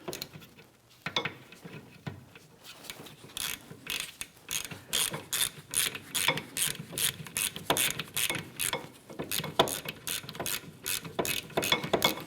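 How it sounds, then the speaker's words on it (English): A 14mm socket on a ratchet works loose brake caliper bolts on a 2004-2008 Acura TL rear wheel, giving rapid, close metallic clicking in repeated bursts with short pauses between strokes. "Using our 14mm socket and ratchet, we're going to go ahead and remove our brake caliper bolts."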